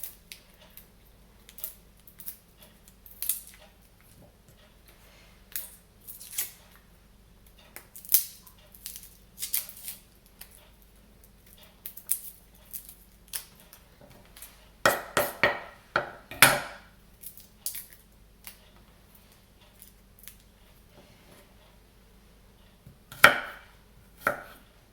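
Garlic being chopped with a kitchen knife on a board, quiet irregular chops and taps in short clusters with pauses between them, close and unaccompanied by talk.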